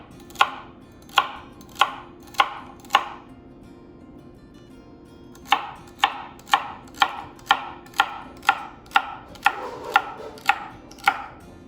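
A knife rock-chops vegetables on a cutting board in crisp, evenly spaced taps: five strokes, a pause of about two seconds, then a longer quick run of about fourteen, close and clear, with no talking.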